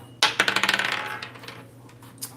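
Dice tossed onto a hard surface during a tarot and astrology reading, a sharp initial clatter followed by a quick run of bouncing clicks that tapers off, with one faint final tap.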